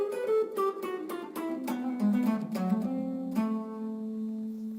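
Guitar playing a lick that descends chromatically in thirds, a quick run of clean plucked notes settling onto a held low note, close and solo.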